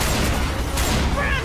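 Dense gunfire from a zombie co-op shooter, continuous rapid shots filling the brief moment at close range and high volume, with game noise blended in.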